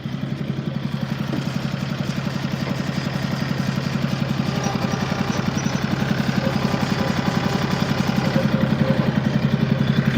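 A tractor engine runs nearby at a steady idle, making a rhythmic low clattering throb that stays even and loud throughout. No one speaks over it.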